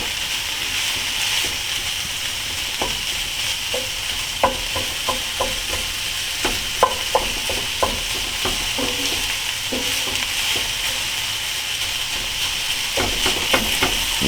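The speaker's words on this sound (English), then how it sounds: "I just keep working on breaking it up and stirring it" Crumbled pork chorizo sizzles steadily in a pan for breakfast burritos, with a constant frying hiss broken by repeated scraping and clicking stirs of a utensil against the pan.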